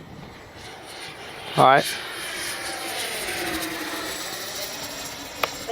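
A Freewing 80mm JL-8 RC jet flying overhead, a steady distant ducted-fan whine and whoosh running throughout, with a man's brief spoken remark near the start.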